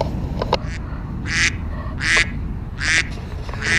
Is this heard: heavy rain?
no